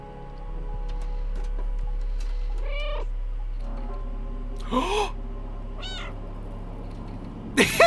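A cat character meows several times in the video game Stray, short plaintive calls spaced a few seconds apart over a low steady game ambience hum, moderately faint with no talking.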